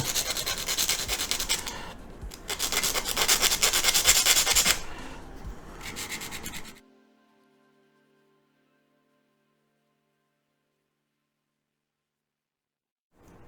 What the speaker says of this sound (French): on va venir les poncer